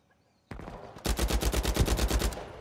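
Rapid automatic gunfire from an Uncharted 4 multiplayer match, a short opening shot and then a steady burst of about a dozen evenly spaced, loud, close rounds.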